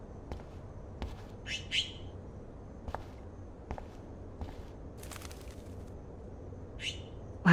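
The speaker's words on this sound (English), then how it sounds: "Oh no, that poor little bird has been trapped in here." Brief high chirps from a trapped bird in the video game Life is Strange, in two short clusters over a low indoor hum, with soft footstep-like taps between them.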